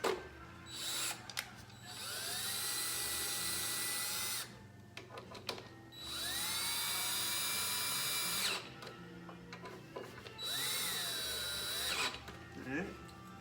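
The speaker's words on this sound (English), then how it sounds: "Let's use my drill." A power drill whirs in three sustained bursts while mounting tires on a Harley-Davidson Ultra, spinning up and winding down, with clicks and handling noises between runs.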